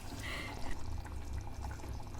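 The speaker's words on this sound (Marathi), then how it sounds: "आपण सूप टाकूया, म्हणजे थोडीशी आपली ग्रेव्ही वाढेल" Soup is poured into chicken gravy as it cooks, giving a steady, moderate liquid pour with soft splashing over low background hum.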